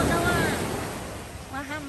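Ocean surf washing onto a beach on the Bahia coast of Brazil, a steady broad roar with wind buffeting the microphone and a voice speaking briefly near the end.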